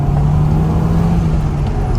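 Inside a 2008 Audi TT MK2 2.0 TFSI with 200 hp cruising at about 50 km/h, a loud, steady low engine drone and road rumble fill the cabin without letup.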